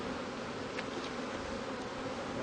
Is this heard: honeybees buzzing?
yes